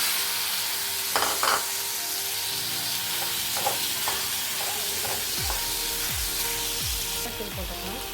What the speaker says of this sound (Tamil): ஆனியன் நல்லா வதங்கிடுச்சு. தக்காளி போட்டுக்கலாம். இப்போ உருளைக்கிழங்கு போட்டுக்கலாம்.